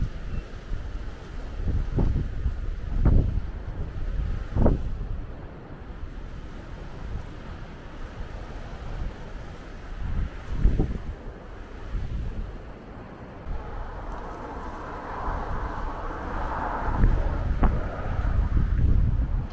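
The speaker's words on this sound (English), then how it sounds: "Very windy. It's so cold." Strong gusts buffet the microphone in loud, uneven bursts over a steady outdoor roar on the Haast Pass Road in cold weather, with no voices.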